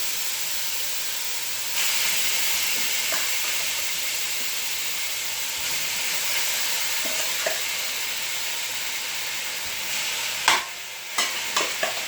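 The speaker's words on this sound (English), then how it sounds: "We don't want it to boil, so we have it on high temperature. We really want it just to brown." Loud, steady sizzling of cubed beef steak browning in a pan on high heat, a constant hiss with a few sharp clinks of stirring toward the end.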